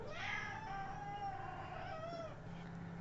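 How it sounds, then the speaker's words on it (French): A domestic cat gives one long, drawn-out meow close by, its pitch rising and then sliding slowly down, heard alone over a faint steady background hum. "Mon chat souhaite aussi participer à la vidéo, j'ai dû le chasser"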